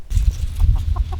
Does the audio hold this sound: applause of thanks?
no